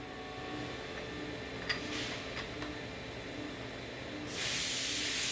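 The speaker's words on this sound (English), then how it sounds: "Once the leak is stopped" A pressurized leak hisses steadily from a valve, a continuous close airy rush with a few faint knocks, swelling noticeably louder and brighter near the end, with no voices.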